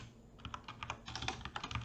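Fingers tapping a computer keyboard at a command-line terminal, a quiet burst of rapid, close key clicks that begins after a short pause and grows denser toward the end, with no one speaking.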